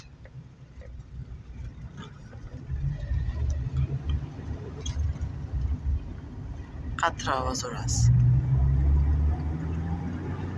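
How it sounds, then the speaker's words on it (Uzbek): A Daewoo Nexia 2500 car engine runs with a steady low rumble that swells toward the end, while someone talks over it. "Nexia avtomobilimiz tayyor bo'ldi. Ajoyib yurib ko'rasan endi."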